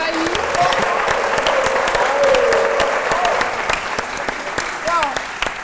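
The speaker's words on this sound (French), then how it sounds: "On applaudit très fort le papa de Claire Bailly." Warm, continuous audience applause in a French television studio, a dense wash of clapping with a few sharp individual claps standing out, while voices speak and cheer over it throughout.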